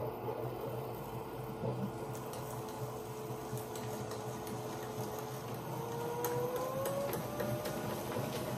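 A chattering tool trims a brush with a steady, continuous whirring buzz and rattling texture throughout, holding level and moderately loud with a faint rising whine toward the end.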